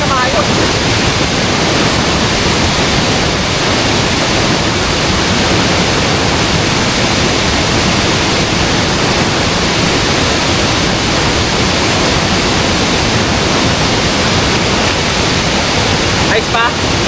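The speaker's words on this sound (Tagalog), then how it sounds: "Nag-uumapaw yung tubig sa bundok, oh. Tignan nyo, may waterfalls, oh." Mountain river water rushes steadily down over rocks through small cascades and mini waterfalls, a loud, continuous broadband roar close by with no breaks.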